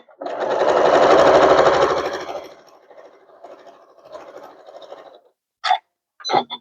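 A sewing machine stitching quilt pieces runs in a steady fast whir for a couple of seconds, then slows to short softer bursts, followed by a few brief handling clicks.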